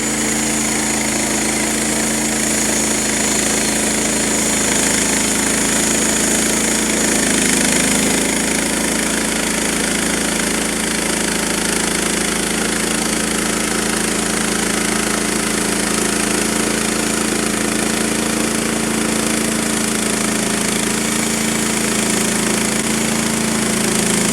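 A steady, loud engine drone with a continuous mechanical whine runs throughout, a sawmill motor working through a maple log, with no voices.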